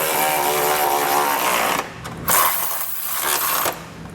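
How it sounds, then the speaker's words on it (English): A 19mm socket snugs down Curt trailer hitch receiver hardware on a 2015 Chevrolet City Express, giving a steady, loud mechanical whir with brief pauses and a clatter of ratcheting near the end. "come back to the 19mm socket and snug everything down"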